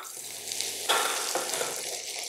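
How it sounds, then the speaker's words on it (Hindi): Cabbage and mixed vegetables hit a hot pan for street-style chowmein, a soft frying hiss that swells into a louder sizzling burst midway and then settles. "आधे मिनट को भून लेंगे और फिर डालेंगे ये सब सब्जियाँ।"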